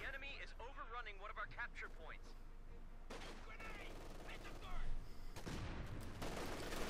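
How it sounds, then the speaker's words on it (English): Bursts of rifle and machine-gun fire crackle in a Company of Heroes 2 one-versus-one match, fairly quiet and set under continuous commentary from a caster. "firing at the Grenadiers"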